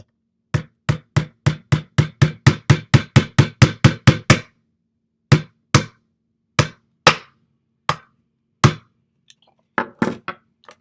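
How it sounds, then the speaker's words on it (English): A hammer taps a nail through a metal can lid: a quick run of about seventeen sharp, evenly spaced knocks, then a pause and a slower, more irregular handful of strikes, close and clear with no talk. "I'm going to take my hammer and carefully"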